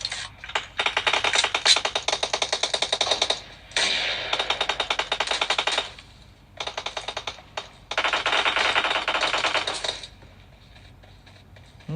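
Gunfire in a mobile shooter game played on a realme GT Neo 3 phone: rapid, crisp bursts of automatic fire in several stretches separated by short lulls.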